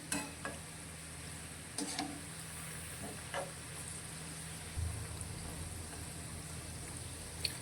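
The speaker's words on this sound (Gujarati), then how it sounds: "આપણે તેને મીડિયમ ગેસની ફ્લેમ પર તળીશું" Onion bhajiya fritters (kanda tikdi) fry in oil over a medium gas flame, making a soft, steady bubbling hiss with occasional light clicks and taps nearby.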